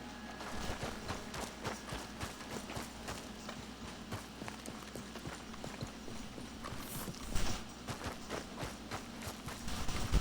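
Horse hooves clip-clop in the video game Red Dead Redemption 2, a steady rhythmic trot of close, distinct hoofbeats that continues throughout with no talk.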